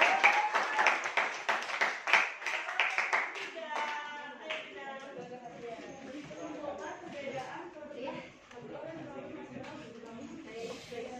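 Classroom applause for a student group, with a burst of hand clapping from a small class for about three seconds before it fades into murmuring voices and chatter.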